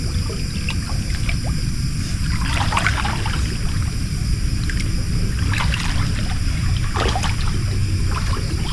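A full, swollen creek with murky water rushes in a steady, dense wash of flowing water with no pauses. Faint splashes and trickles rise above the constant roar.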